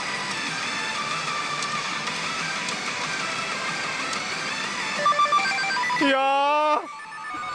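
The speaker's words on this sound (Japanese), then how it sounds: "確定音だった" Pachislot machine on a Keiji Shikkoku slot giving its jackpot confirmation sound, a bright rising electronic chime burst near the end after loud continuous machine music and effects, with a voice briefly exclaiming.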